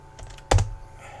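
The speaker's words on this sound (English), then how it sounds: "So just type it in" Brief bursts of typing on a computer keyboard, a few light taps followed by one louder, sharper keystroke, close and isolated with a faint hum underneath.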